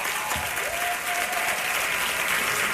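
Applause from an audience at a women's health expo fills the whole stretch, a steady dense wash of many hands clapping at even loudness with no speech over it.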